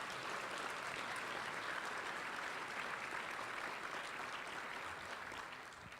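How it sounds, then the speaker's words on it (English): A round of audience applause at a small-business awards ceremony honoring last year's Pinnacle Award winners, dense continuous clapping heard from a distance at low level, tapering slightly at the end. "How about a nice round of applause for these folks?"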